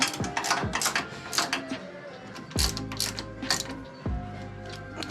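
Bolts tightened with a ratchet on an Ironman gutter machine during a changeover from 6 to 5 inch, loud close clicking and ratcheting strokes with metallic clanks, no voices.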